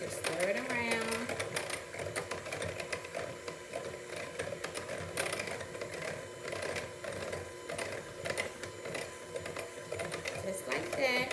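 An electric mixer whips cake batter on low speed with a steady mechanical whirring and rattling that runs throughout, while a person talks over it.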